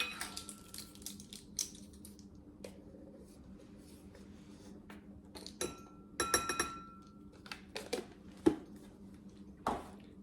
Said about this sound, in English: the next step is to mix our cornstarch with our heavy cream